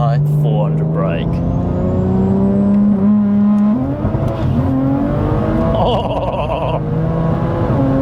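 A heavily modified BMW M240i with a B58 engine making over 850 bhp pulls a rolling launch with anti-lag, its loud engine note rising and climbing steadily with crackles over a constant drone, while people talk over it.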